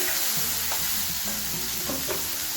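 Chopped onions sautéed in a pan for a Maharashtrian brinjal masala, with a steady sizzle and repeated scraping stirs, fairly close and without any talking.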